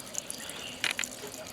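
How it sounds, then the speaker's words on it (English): Water drips from an upper bucket into a lower one in an outdoor Dutch bucket tomato setup, with a few small splashes, one cluster louder than the others, over a faint trickle. "we've got our upper bucket dripping into the lower bucket"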